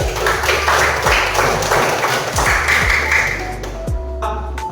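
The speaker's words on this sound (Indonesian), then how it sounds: "Tepuk tangan buat Dewan Daud." Classroom applause from students in an Islamic cultural history lesson, a dense patter of clapping that holds steady for several seconds before thinning out near the end, with faint pings and taps mixed in.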